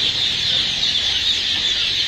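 Roosters and other poultry at an Egyptian market where quail and chicks are sold keep up a dense, continuous clucking and chattering, close by and fairly loud throughout.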